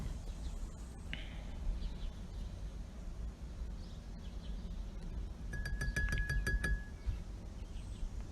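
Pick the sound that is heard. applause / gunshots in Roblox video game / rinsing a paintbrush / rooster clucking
rinsing a paintbrush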